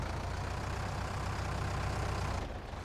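A tractor engine in Farming Simulator 19 drones steadily at a low idle, a continuous rumble that holds its level throughout and dips slightly near the end.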